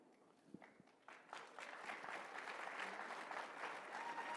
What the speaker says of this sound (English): I hate it when people clap for you.